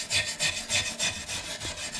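A small brush scrubs rust from the bumper of a lowered Chevrolet/GMC Sierra stepside pickup, a steady back-and-forth rasping in regular strokes about four per second, close and fairly quiet, with no talking.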